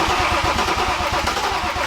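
A BMW diesel engine swapped into a Land Cruiser cranks and fires for the first time, a loud, close, rough rhythmic chugging with steady pulsing throughout and no talk.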